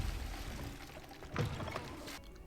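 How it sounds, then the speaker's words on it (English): Toilets flushing in the video game Hogwarts Legacy, a faint continuous rush of pouring water with a brief swell partway through. "Flushing all the toilets."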